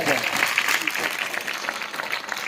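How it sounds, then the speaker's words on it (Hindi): Applause from women and men in the audience greets the formal inauguration of a Coal Welfare Committee Victory Day event, a steady wash of clapping that fills the clip with a little crowd murmur underneath. "सभी महिलाएं पुरुष से आग्रह हुआ कि जोरदार ताली से स्वागत किया जाए"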